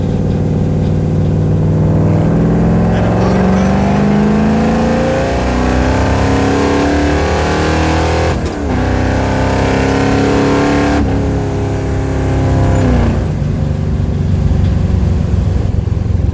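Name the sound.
car engine with FiTech fuel injection revving to 5,000 RPM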